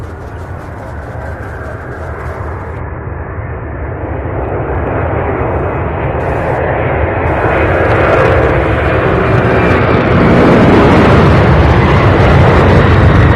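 A UPS plane takes off from Louisville International Airport, its engine roar loud and broadband, building steadily from a rumble into a swelling, rushing thunder as the aircraft accelerates.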